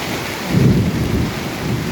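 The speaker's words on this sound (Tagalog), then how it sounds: "May bagyo kasi." A thunderstorm with heavy rain at a steel deck installation site in San Carlos: a loud, close roll of thunder swells over a steady downpour, with no voices.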